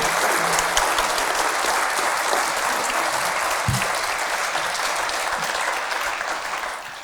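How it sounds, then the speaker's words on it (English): An audience at a British gathering gives a sustained round of applause, dense and steady, many hands clapping close by, tapering slightly toward the end. "give them all a round of applause"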